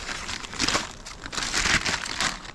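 A paper note for a geocache is folded by hand in a forest, giving steady crinkling and crumpling rustles with a few louder crackles across the whole stretch, close by, with no talking.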